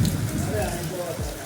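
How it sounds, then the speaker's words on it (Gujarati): Heavy rain falls in rural Gujarat, its broad, steady hiss running beneath a voice that talks over it for the whole moment. "મોટા પોરે વરસાદ પડી રહ્યો છે"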